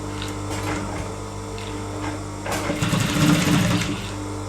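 A sewing machine stitches a child's elastic-waist trouser, running in a close, steady mechanical whir that grows slightly louder partway through, with no one speaking.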